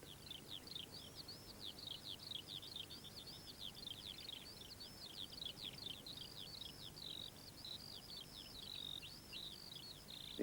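Birds sing continuously in a cheerful chorus, a dense run of repeated high chirping phrases carried steadily over a soft low hum, fairly quiet and with no voices.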